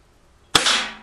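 A single sharp shot from a Gletcher M1944 Mosin Nagant CO2 BB rifle, outdoors during field testing: a crisp near crack with a short hissing tail of gas, following a moment of quiet.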